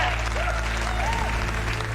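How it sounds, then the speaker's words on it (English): Dense applause from a crowd, steady clapping throughout with faint speech-like sounds mixed in. "Round of applause for you."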